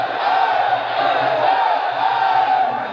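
Dense crowd noise from a live fight event in Thailand, a steady roar of voices and shouts holding loud throughout with no break.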